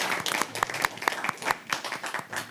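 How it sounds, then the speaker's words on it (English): An audience claps at a city council meeting: a modest, uneven scatter of individual hand claps, fairly close and moderately quiet, with no talking. "Let's give them a round of applause."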